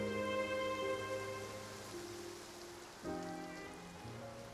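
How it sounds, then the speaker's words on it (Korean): Steady rain falls in the video game Genshin Impact, a constant hiss of drops filling the scene, with soft musical tones and ambient game sounds layered over it throughout. "이렇게 비가 오래 내릴 줄이야."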